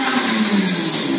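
An electric motor driven by field oriented control runs at full throttle, giving a brief, steady, loud whine with a constant hum and no pauses.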